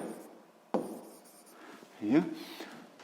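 Handwriting of a physics problem, pen scratching across paper in a few short strokes with one sharper tap, fairly quiet and close, with faint voice-like sounds in the background.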